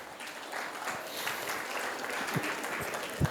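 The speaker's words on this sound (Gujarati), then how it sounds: "આ તમારા અનુભવની તાળી લાગે છે" Scattered, modest applause from a lecture audience at a Jain community talk series, soft and somewhat distant, with a few sharper isolated claps standing out near the end.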